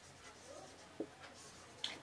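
Pen or chalk writing maths on a board or paper, faint scratchy strokes with a couple of soft taps, quiet and close with no talk.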